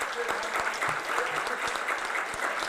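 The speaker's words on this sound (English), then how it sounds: "round of applause." Audience applause for nonprofit leaders standing at a community program, a steady, dense wash of many hands clapping close by that holds evenly throughout.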